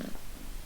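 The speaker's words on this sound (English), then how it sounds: "Aw, nice kitty." A cat purrs in the video game Death and Taxes, a soft low rumbling that holds steady through a brief moment, close and fairly quiet with no voices over it.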